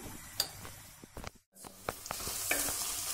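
Ingredients for a cauliflower moussaka sautéing in a pan, steady sizzling broken by scraping stirs and light utensil clicks against the pan, with a brief pause midway; no voices.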